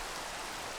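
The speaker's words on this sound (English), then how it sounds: "Why every single time I'm recording for you guys does it start raining?" Rain falling in the video game Minecraft, a dense, even hiss of steady downpour, brief and alone with no talk.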